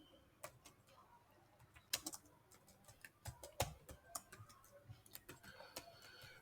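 Computer keyboard typing a pip install command, quiet irregular key taps in short bursts, close and faint against a low room background.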